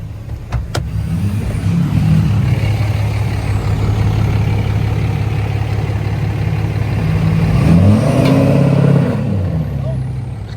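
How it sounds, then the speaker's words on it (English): A 4th-gen Cummins diesel pickup truck rumbles loudly through a burnout, its engine droning steadily throughout, with a revving surge near the end. "Will that thing do a burnout?"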